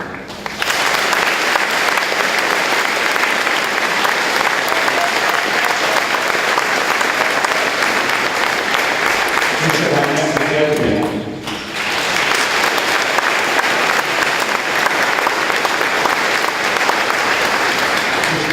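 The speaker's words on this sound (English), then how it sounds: "let's have a round of applause for the Spanish National Honor Society" A large audience at a high school Veteran's Day ceremony gives loud, sustained applause, a dense wash of clapping that briefly dips midway before swelling again.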